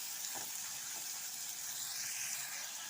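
Sliced big onion and curry leaves frying in hot oil in a pan for a soya chunks fry, giving a steady, soft, close sizzle with a couple of faint stirring scrapes.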